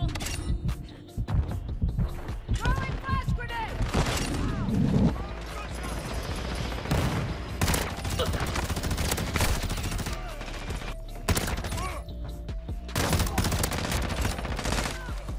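Repeated shotgun and gunfire blasts in the Modern Warfare video game with the Tempus Razorback setup, loud dense shots and explosions throughout, with frequent bursts and no clear pause.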